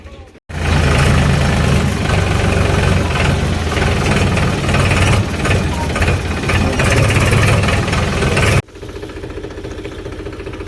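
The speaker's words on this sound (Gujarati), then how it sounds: "ટ્રેક્ટર આવી ગયું હોય બટાકા પહેરવા માટે" A farm tractor engine idles near a potato field, a steady loud low rumble running continuously for several seconds before cutting off abruptly, followed by quieter background.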